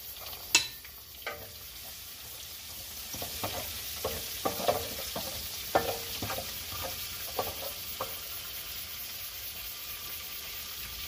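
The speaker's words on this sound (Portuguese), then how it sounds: "Você vai estar colocando primeiro o alho, né? Dá uma fritadinha nele. Na mesma gordura que for fritado o bacon." Garlic fries in rendered bacon fat in a pot over a wood-fired stove for feijoada, making a steady sizzle broken by repeated stirring clinks and scrapes.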